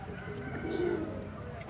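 A pigeon coos softly in a short warbling phrase, nearby, over a steady low background hum.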